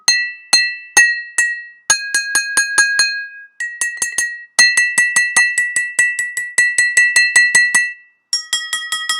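Glasses holding different amounts of water are struck like a xylophone, giving clear ringing clinks in quick runs. Pitches shift between groups of strikes, each note loud, bright and close with a brief decay.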